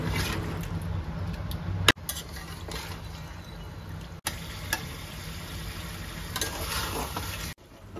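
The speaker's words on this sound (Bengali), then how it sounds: "সেই পনিরগুলো আমি এর মধ্যে দিয়ে সব কিছুকে ভালো করে মিশিয়ে নিচ্ছি।" Fried paneer being stirred into spiced gravy in a pan, a low steady sizzle with scraping stir strokes and a couple of abrupt cuts, no voices.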